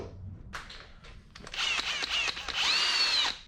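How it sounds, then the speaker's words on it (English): A cordless drill bores holes in a 2007 Toyota 4Runner, with a few short trigger bursts followed by a longer whining run as the bit cuts through metal. "try to drill them all out the same size"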